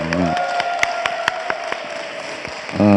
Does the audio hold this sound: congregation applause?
yes